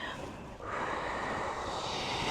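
A person breathes out forcefully during a morning exercise routine, a long breathy exhale heard up close that briefly dips and then continues as a steady airy rush.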